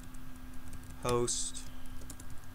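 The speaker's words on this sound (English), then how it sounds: "Now I'm gonna type" Command being typed on a computer keyboard during a Telnet session, heard as a short burst of close key clicks near the middle, with a faint voice murmuring underneath.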